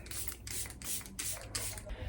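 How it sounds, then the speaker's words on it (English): Makeup setting spray hisses out in a series of about five short, close bursts, each a bright airy spritz separated by brief pauses. "So the final touch is setting spray"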